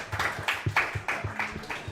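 Scattered clapping from a small crowd at a pizza pub, uneven claps that rise and fall in short bursts at fairly low volume.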